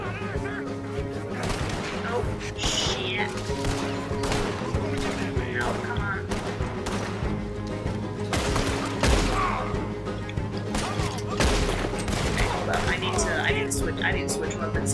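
Shootout gunfire in the video game Red Dead Redemption 2, repeated loud gunshots and crashes scattered over a steady in-game backdrop, with people talking throughout.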